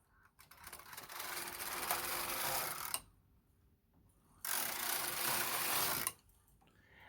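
A Knitmaster Mod 150 knitting machine knits two rows, its carriage sliding across the needle bed in two long, steady mechanical rasps separated by a short pause, close and alone.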